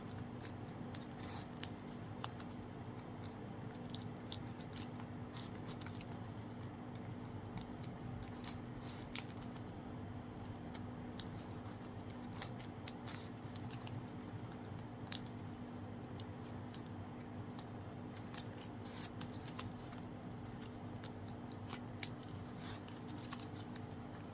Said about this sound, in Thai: เสร็จแล้วเราก็ตัดปลายริบบิ้นทิ้งค่ะ